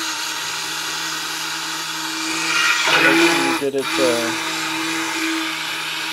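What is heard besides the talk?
stick blender mixing goat's milk soap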